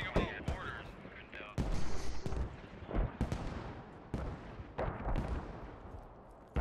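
Mortar and artillery fire in the military shooter game Squad: a run of sharp booming blasts and crackling impacts at irregular intervals, some heavy and close, with voices talking over the fighting.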